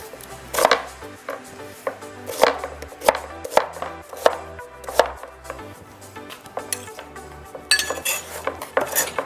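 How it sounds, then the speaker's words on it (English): A knife slices an onion on a cutting board in a run of crisp, close, irregular chops and thuds, heard over soft background music. "We want to slice an onion."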